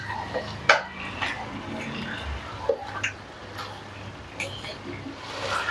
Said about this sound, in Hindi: पहले हम आलूओं को अच्छी तरह से इसी मसाले में फ्राई करेंगे।